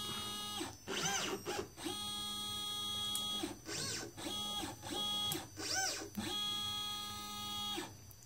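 A Liteplacer DIY pick-and-place machine runs an automatic nozzle change at full speed. Close, moderate stepper-motor whirs sound in short bursts with rising and falling pitch sweeps, separated by brief pauses, with no talk.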